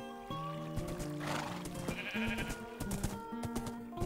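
Sheep bleat in the game Minecraft, wavering nasal calls that overlap over game music and ambient sound, fairly quiet and continuous.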